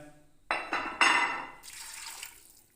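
Water splashes and pours into a metal pressure cooker holding beef in a couple of quick gushes, followed by a softer hissing trickle.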